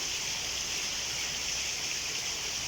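Heavy rain during a thunderstorm with water running off a rooftop terrace and down the stairs, a dense, steady hiss of falling water that holds even and unbroken throughout, with no voices.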